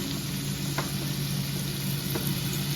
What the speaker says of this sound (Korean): 지금 돼지 감자, 당근, 볶아줍니다.